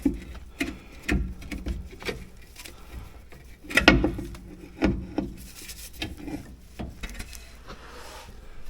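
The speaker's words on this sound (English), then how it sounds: "I'll remove that last 13mm bolt. Now the cover will come right off." Removing the final 13mm bolt and the differential cover on a Chevrolet Silverado produces a series of close, irregular metallic clicks, scrapes and knocks with a louder clunk midway, no talking.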